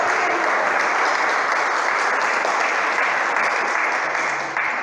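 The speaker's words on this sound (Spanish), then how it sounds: "Denle un aplauso al Señor en esta hora" Sustained applause from a church congregation, steady and loud throughout with no break, fading slightly at the very end.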